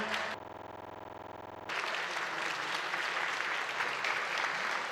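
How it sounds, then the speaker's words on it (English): Spectators at the 2017 World Games lightweight women's powerlifting medal ceremony applaud, a steady, moderately faint spread of clapping that follows a short sustained electronic tone. "applause for them"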